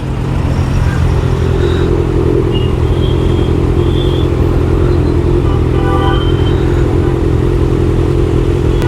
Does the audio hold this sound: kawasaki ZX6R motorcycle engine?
yes